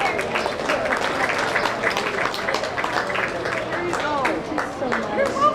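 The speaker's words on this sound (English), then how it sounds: "Let's give him a big round of applause." A crowd at a county fair swine show applauds, with scattered clapping mixed with chatter and voices from the arena, steady and moderately loud throughout.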